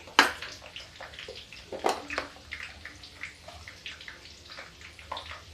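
Water poured into a pot of daliya (broken wheat porridge) cooking with small diced potato, ginger and salt, giving a loose trickling splash with a couple of sharper splashes, close and moderately quiet.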